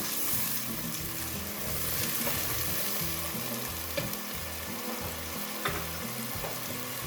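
Chickpea curry with ground red chili fries in a pan with a steady, close sizzle. Soft scraping and rustling come from continuous stirring, with no talk.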